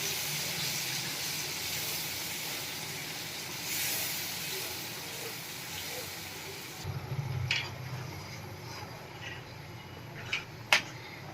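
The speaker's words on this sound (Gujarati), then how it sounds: "આપણે બધી ચટણી એમાં એડ કરી દેવાની છે। મિક્સ કરી લેશું બધું સરસ।" Tomato garlic chutney hisses and bubbles in a hot pan, a steady broadband simmering hiss with a few short clinks of stirring toward the end.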